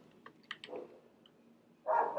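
A dog barking faintly in the background of a quiet home office, a couple of short muffled barks followed by a louder bark near the end.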